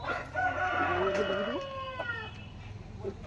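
Chickens held for sale call close by, with a drawn-out crowing cry and some clucking over a low background hum, and faint voices behind.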